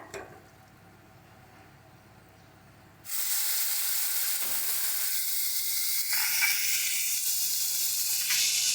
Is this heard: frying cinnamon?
yes